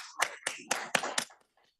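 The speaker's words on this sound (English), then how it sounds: "a round of applause for Sean here" A brief round of clapping from a small group at a surgery grand rounds lecture, about five distinct bursts of claps in quick succession before fading abruptly to silence.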